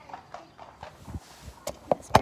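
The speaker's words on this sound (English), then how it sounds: "some horses going past." Several horses walking past along a quiet rural road, their hooves clip-clopping in an uneven rhythm that grows louder and sharper as they near, with a faint murmur of voices in the background.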